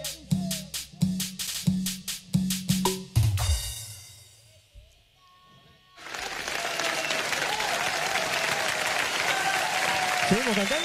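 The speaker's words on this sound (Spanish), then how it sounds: "Con las palmas bien arriba, hacemos palmas y hacemos palmas arriba" Audience at a cumbia show clapping in unison, about ten sharp rhythmic claps, then a pause and a swell of sustained applause mixed with crowd noise and music that carries on to the end.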